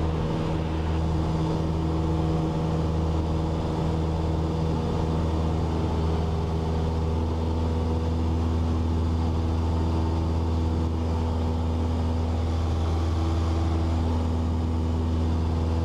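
A Cessna 172 engine drones at a steady, loud pitch throughout the takeoff roll, with strong low harmonic tones held under a constant wash of cockpit noise and no speech.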